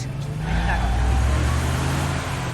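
Video game car engine from The Wolf Among Us, a steady low rumbling drone running through the whole moment with brief tire-like screeching, while people talk excitedly over it.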